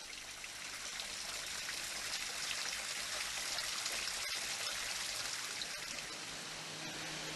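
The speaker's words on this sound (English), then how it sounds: "Tumbling, rushing water, rushing to get into that lock down the bottom of the valley" Water tumbling and rushing along a stream in a mossy valley beside a small viaduct, heading down toward a canal lock; a steady, continuous broadband rush and trickle, close and fairly loud, alone throughout.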